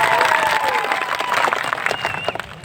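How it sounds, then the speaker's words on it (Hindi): A crowd at a World Tribal Day event in Dungarpur claps in steady applause, moderately loud, with a faint voice and a whistle-like tone over it, fading toward the end. "एक बार जोरदार आपके लिए तालियां बजा दी जाए"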